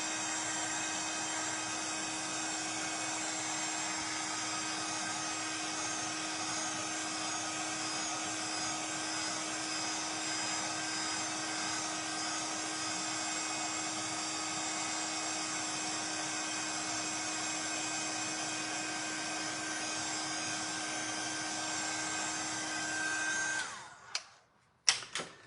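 A hair dryer blowing over artwork, a steady whirring hum that runs unbroken for over twenty seconds, then cuts off with a few clicks and handling knocks.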